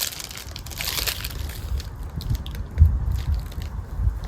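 Someone takes bites of a crunchy snack at close range, with several sharp crunches and chewing sounds spread over a few seconds against a quiet background.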